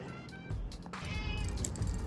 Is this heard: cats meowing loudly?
yes